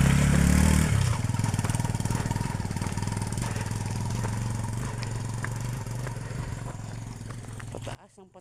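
Motorcycle engine labouring steadily as it climbs a steep road toward Calundan, San Jorge, Samar, a close, continuous rattling drone with a louder burst at the start, cutting off near the end.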